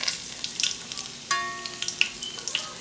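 Garlic and pepper frying in hot oil, with a steady close sizzle and crackle broken by sharp spatters and a few clinks of a utensil against the pan.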